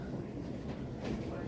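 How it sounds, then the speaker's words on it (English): South West Trains Class 455 electric train rolling along the line near Weybridge, a close steady rumble of wheels and car noise, with people talking over it. "can I ride these red trains, 455s as they're known as"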